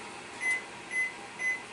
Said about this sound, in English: put my timer on here. I'm not microwaving it, I'm just using it as a timer